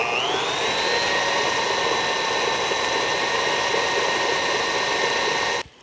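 An electric mixer whips maple butter in a bowl with a loud, steady high whine that rises in pitch as it spins up, then cuts off abruptly at the end.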